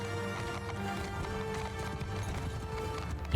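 Horse archers in Mount & Blade II: Bannerlord gallop in a constant clatter of hooves, with busy battle noise and a faint sustained musical tone behind them, fairly quiet and even throughout.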